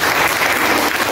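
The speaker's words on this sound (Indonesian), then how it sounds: "Berikan tepuk tangan." Congregation at a church service clapping together, a dense, loud burst of applause lasting about a second with no voices over it.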